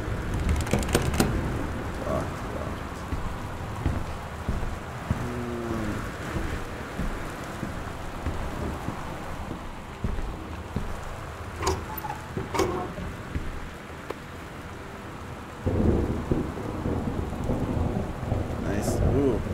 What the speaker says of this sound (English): Oh, man, it's stormy.